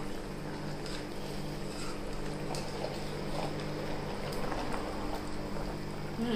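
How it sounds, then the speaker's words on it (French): Calalou simmering in a pot while being stirred, a soft steady bubbling and gentle sloshing with faint scraping, quiet and continuous with no voices. "Je vais touiller."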